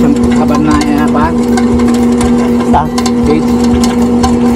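A feed pelletizer machine running on a farm, giving a loud, steady droning hum with a strong constant tone and engine-like rumble, while people talk over it.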